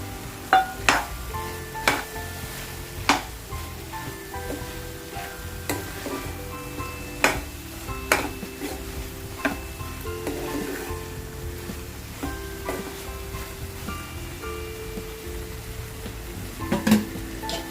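Ridge gourd bhaji cooking with fresh grated coconut in a pan: a low continuous sizzle underlies periodic spoon taps and stirring knocks against the pan, moderately close.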